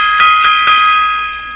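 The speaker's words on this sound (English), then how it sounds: "Gong time." Metal gong struck during a live talk show, ringing out with a bright shimmering tone and a few quick repeated strikes, the sustain slowly fading.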